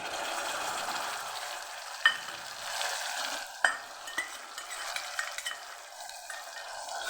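Onion, tomatoes and prepared masala for a drumstick-and-potato curry sauté in a pan with a continuous hiss, broken by a few sharp spoon clinks against the metal as the mixture is stirred.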